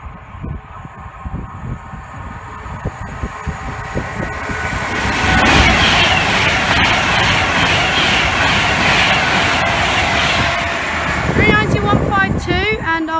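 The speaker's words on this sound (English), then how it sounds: "two Avanti West Coast Class 390s. One is going to Manchester Piccadilly and the other is going to from Glasgow Central to London Euston." Avanti West Coast Class 390 trains pass at Cheddington on the West Coast Main Line. A loud rushing roar builds to a sustained pass that lasts several seconds, with rattling and squealing wheel noise near the end.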